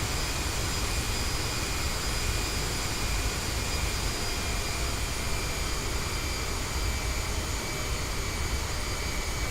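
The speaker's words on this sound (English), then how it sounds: "Hear the engine spooling down as I let off." Airliner jet engines in Microsoft Flight Simulator drone steadily, a broad continuous roar with a thin high whine on top, heard alone.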